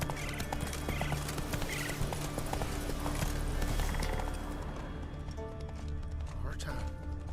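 Roach, Geralt's horse in Witcher 3: Wild Hunt, gallops with steady, close clip-clop hoofbeats and an occasional whinny, layered over a constant game music bed and ambient background.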